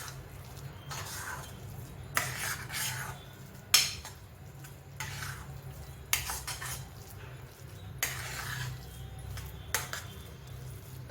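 A spoon stirring and scraping sweet potato sheera in a pan as it roasts with milk, soft repeated clinks and scrapes at irregular intervals over a low steady background hum.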